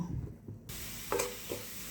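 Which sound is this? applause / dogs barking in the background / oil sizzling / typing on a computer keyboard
oil sizzling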